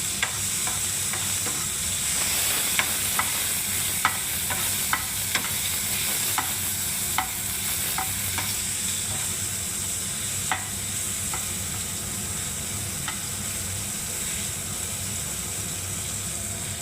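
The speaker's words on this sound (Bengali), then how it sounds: "এবার করলাটাকে তেলে ছেড়ে দেবো। এবার একটু নাড়বো।" Bitter gourd frying in hot oil while being stirred, with a steady close sizzle and regular scraping clicks of a spatula against the pan, no voices.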